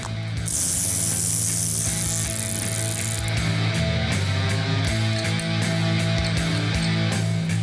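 Repeated ratchet clicking from tightening down the axle and adjusting ring on a car, loud and close with a steady rapid rhythm of pawl clicks over a mechanical background.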